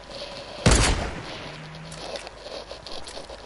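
A single sharp gunshot cracks out early in a shooter video game, loud and close, then fades into quiet background ambience with faint shuffling.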